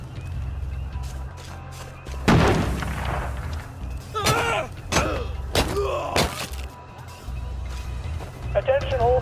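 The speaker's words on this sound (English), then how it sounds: "Let's give him a grenade!" A grenade blast in the game We Happy Few lands as one loud, close boom, followed by shouting voices and scattered thumps.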